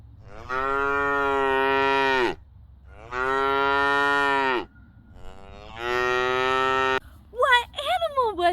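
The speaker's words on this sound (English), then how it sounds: "Can you make the sound of a cow with me?" A cow moos three times, long drawn-out lowing calls separated by short pauses, loud and close, followed by a brief higher-pitched animal sound at the end.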